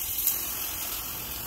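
Water poured into a hot mold holding a freshly cast half-kilo gold bar made from scrap gives a brief hissing, sizzling gush that is fairly quiet and steady.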